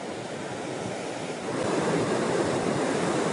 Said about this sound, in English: it's really windy out here